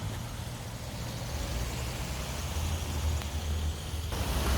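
A 705 bus to Devonport pulls in at a Tasmanian roadside stop, a steady low engine rumble growing gradually louder as it nears, with broadband road noise and a faint hiss toward the end.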